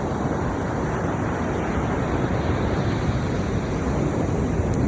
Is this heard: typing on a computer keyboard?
no